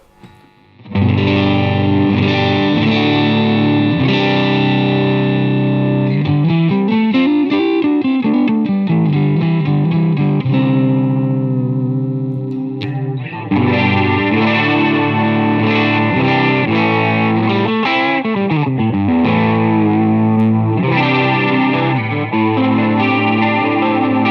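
Electric guitar played through a small Henriksen Bud amplifier with a 6-inch speaker, distortion and chorus, sustained chords and sliding bends over about twenty seconds, no talking.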